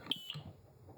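Two quick high-pitched electronic beeps from a smoke alarm, faint and close together, followed by quiet.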